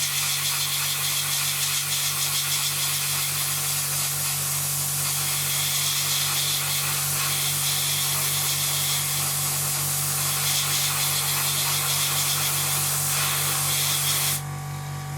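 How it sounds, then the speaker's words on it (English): Steady, continuous airbrush hiss of paint spraying close by onto a model's wing, holding evenly for about fourteen seconds before cutting off abruptly. "I'm just going to spray in this wing."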